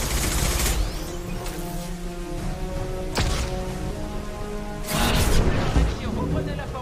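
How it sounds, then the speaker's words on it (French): Flashbang grenade going off in Mass Effect 2 amid dense game combat noise, sharp bursts and a booming blast near the end, with voices talking over the fighting. "Grenade aveuglante."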